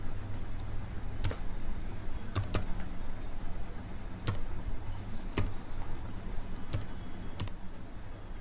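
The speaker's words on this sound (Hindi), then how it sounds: "जो नया एसआरएन है वो टाइप करेंगे" A computer keyboard is typed on with a handful of sparse, distinct key clicks spaced roughly a second apart over a quiet room hum.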